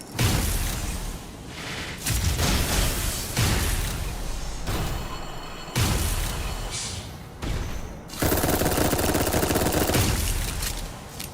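Loud video game gunfire from the Dolls Nest game comes in repeated rapid bursts of shots and booms, separated by brief pauses.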